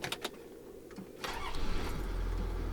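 A few clicks and rattles, then a 1994 Toyota Land Cruiser 80 Series HDJ81 turbo diesel engine cranks and catches, settling into a loud, close, steady rumble.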